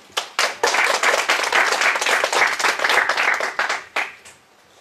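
An audience at a developer open house applauds to welcome a speaker, with loud, dense clapping from many hands that rises sharply and holds before fading out at the end.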